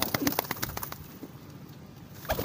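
Racing pigeons coo softly nearby, with a cluster of short calls at the start and another brief coo near the end, over faint background noise.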